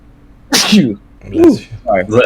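A single sharp human sneeze, close and loud, followed right away by quick spoken words from people in conversation.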